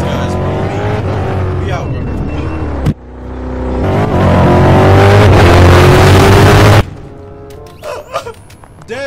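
In the Liberty Stories video game, a car revs hard and accelerates away, the engine climbing loudly in bursts, broken by short gaps, while a person talks over parts of it.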